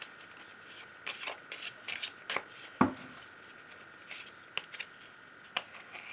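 A deck of oracle cards is shuffled by hand for a reading, a close, quiet run of soft riffling bursts and sharp taps spread irregularly over several seconds, with no talking.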